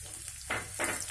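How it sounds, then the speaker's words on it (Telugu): Crushed garlic, mustard seeds and curry leaves hit hot oil, giving two loud bursts of sizzling and spattering close by, with a quieter crackle before and between them. "ఇది వెల్లుల్లి కొంచెం మాడినట్టుగా రెడ్డిష్ వచ్చే వరకు వేయించాలి."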